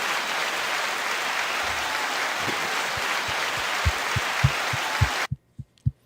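A studio crowd applauds a podcast guest, an Atlanta MC, with dense, even clapping that stops abruptly; a few low thumps continue after the applause ends.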